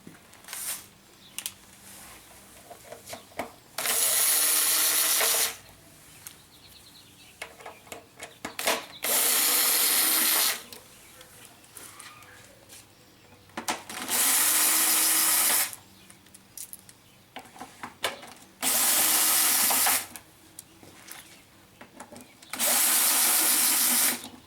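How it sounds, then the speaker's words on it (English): Allen head bolts being removed from the airbox cover of an F model Harley-Davidson V-rod with a power driver: four loud whirring bursts of a few seconds each, separated by quieter handling clicks and rattles. "This is achieved by removing 10 bolts with Allen heads."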